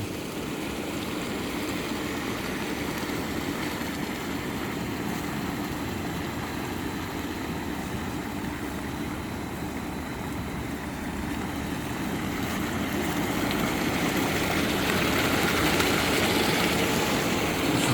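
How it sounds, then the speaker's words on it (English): Water pours steadily from a homemade waterfall into a jacuzzi, giving a constant broadband rushing hiss that holds even and moderately loud with no talk. "I just wanted to show you the waterfall"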